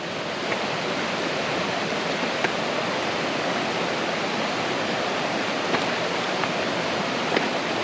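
Deep stream water in the Cranberry Wilderness rushes in a steady, loud, broadband roar, close and unbroken, with no voices over it.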